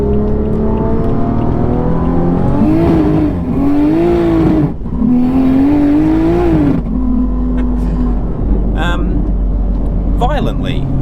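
A single-turbo BMW F80 M3 with an 8-speed in manual mode pulls hard through the gears from inside the cabin, the engine note climbing then dropping at each of several quick shifts, loud and close with a voice over it.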